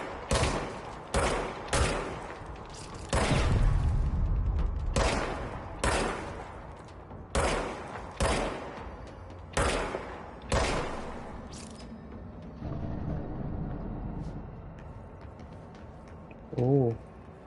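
Repeated gunshots from a weapon in the action video game Control, sharp bursts spaced irregularly and loud at first, then giving way to quieter ambient game noise with a brief thump near the end.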